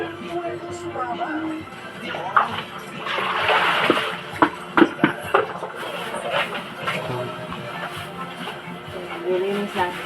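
Fish being washed in water, with splashing and sloshing in uneven bursts and a few sharp knocks, heard close by under ongoing conversation.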